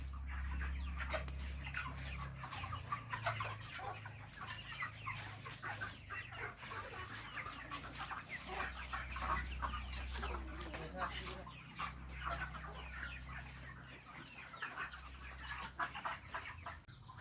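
Broiler chickens on a farm in Assam that also keeps pigs, soft scattered clucking over a steady low hum, fairly faint, with a voice speaking at times.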